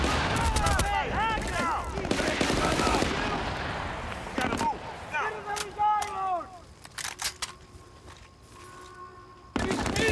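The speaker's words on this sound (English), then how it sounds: "Machine gun, take cover!" Machine gun fire and gunshots in the Battlefield: Bad Company video game, with rapid bursts and sharp cracks along with voice chatter from the game, loud and busy throughout.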